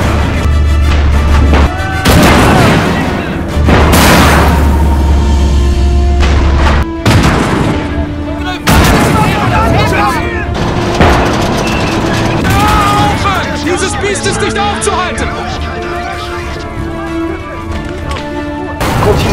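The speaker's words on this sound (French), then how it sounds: "Tirez avec vos canons, maintenant." Tank cannons firing in a World War II battle at Stonne in 1940, in Call To Arms: Gates of Hell, heard as loud repeated booms and crashes over dense rumbling combat noise, with voices speaking at times.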